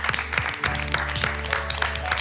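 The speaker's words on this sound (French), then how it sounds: "en tout cas, on t'applaudit" Short burst of studio applause for an eliminated contestant on the French baking competition Le meilleur pâtissier, steady clapping over a low musical hum, without speech.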